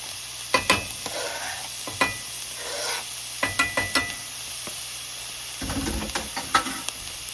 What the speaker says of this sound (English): You have to have your pan heated up thoroughly. We're adding our onions and the garlic.